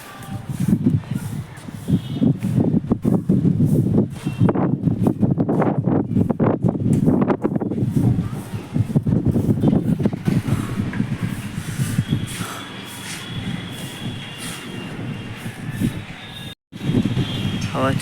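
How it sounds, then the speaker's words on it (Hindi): Strong wind on an upper rooftop produces a steady, loud rushing roar with gusty buffeting against the microphone, while someone talks throughout. "आ गए ऊपर वाली छत पर, हवा चल रही है बहुत तेज़।"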